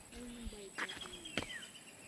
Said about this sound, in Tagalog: puro ibon lang yung maririnig mo